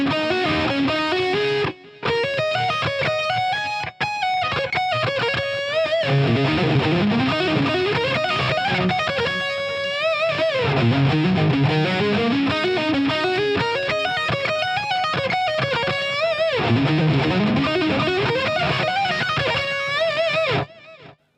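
Distorted electric guitar plays a minor pentatonic lick in E, fast runs repeating the same shape up and down the neck, loud and sustained with brief gaps near the start and no voices.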